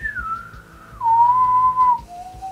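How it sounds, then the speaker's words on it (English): A clear, loud whistled melody of a few sustained notes sliding downward, with soft low instrumental accompaniment underneath. "an interesting whistling melody"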